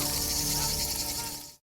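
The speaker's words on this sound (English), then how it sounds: "he was quickly engulfed by a swarm of cicadas" A dense swarm of cicadas buzzing in a forest, a loud continuous high-pitched drone that holds steady throughout and then cuts off abruptly at the end.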